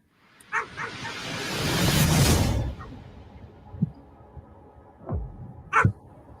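Pit bull dog giving a few separate barks, one loud and close near the end, after a swelling rush of noise, with no talking.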